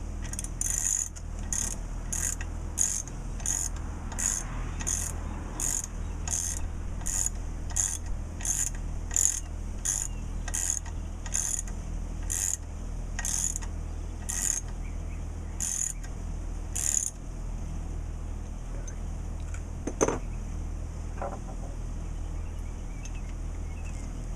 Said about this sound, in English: And just going to run it in, and I'll put the inch-pound torque wrench on there.